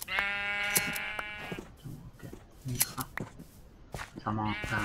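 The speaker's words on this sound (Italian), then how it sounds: "Signora pecora." Minecraft sheep bleat in a loud, wavering cry at the start and again near the end, with scattered soft taps and clicks from play in between while someone talks over the gaps.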